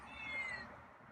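A single drawn-out meow from a feral cat, fairly faint, rises and fades in a quiet room.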